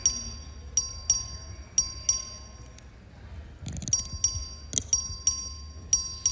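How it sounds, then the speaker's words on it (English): A clerk's bell sounds for a recorded vote on the Texas House floor: sharp metallic dings that repeat in quick clusters, loud and close, over a low room hum, with a short pause midway before the ringing resumes. "The clerk will ring the bell."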